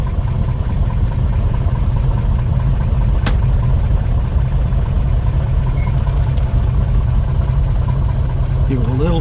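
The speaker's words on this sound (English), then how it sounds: "Give it a little throttle just to get us through the turn." A Piper Comanche's piston engine runs loudly and steadily while the aircraft taxis after a cylinder install, a constant close low drone with a brief click partway through and people talking over it.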